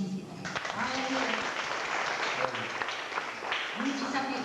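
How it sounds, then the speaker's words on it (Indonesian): A church congregation claps steadily for Jesus, a continuous wash of applause with a voice speaking over it throughout. "Tepuk tangan dulu untuk Tuhan Yesus kita."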